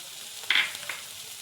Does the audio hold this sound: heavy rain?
no